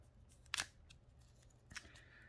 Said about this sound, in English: So I'm going to try and slip my knife carefully down in there. And then draw that back and carefully cut the other way.